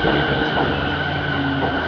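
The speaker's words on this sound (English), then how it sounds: "There comes the train." A commuter train inbound from Chiba rumbles into a station, with steady rolling noise and a high whine, loud and close throughout.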